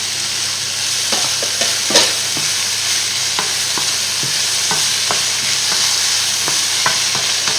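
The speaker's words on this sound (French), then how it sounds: "On ajoute nos poivrons." Bell peppers frying in a pan while being stirred, a steady sizzle broken by repeated scraping clicks of the utensil, close and fairly loud, with no talking.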